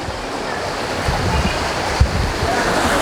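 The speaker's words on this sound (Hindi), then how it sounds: "देखो ये नेचुरल झरना आ रहा है" A steady, loud rush of a natural waterfall in the hills near Dharamshala pours continuously, close by, with no voices.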